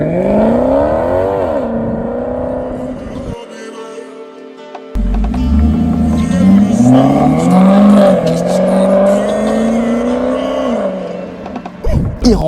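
Maserati GranTurismo Trofeo engine revving loudly and alone, rising and falling through several strong revs with a brief cut in the middle, then climbing again before dropping off at the end.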